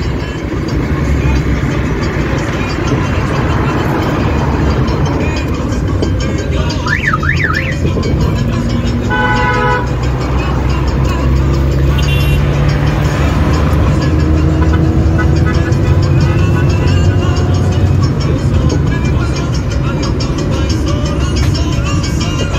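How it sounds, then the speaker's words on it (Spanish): City traffic heard from inside a colectivo bus on the Línea Amarilla in Lima, with a steady engine rumble throughout, a few short horn blasts cutting in, and faint voices in the background. "Todo ese trafiquito."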